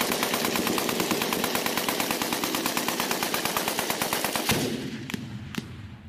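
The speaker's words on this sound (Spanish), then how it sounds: "Y vemos a un soldado disparando una ametralladora, un M60, gastando bastante munición" M60 machine gun fired during combat in Colombia, a long rapid burst of sharp close shots in an even rhythm for about four and a half seconds, then a couple of lone reports.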